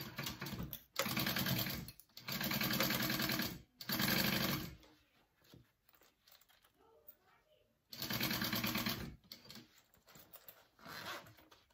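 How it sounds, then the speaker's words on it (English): A sewing machine bastes two fabric pieces right sides together for a crossbody wallet. Three close bursts of rapid stitching whir are separated by pauses with faint handling, and a later run follows. "Right sides together, baste."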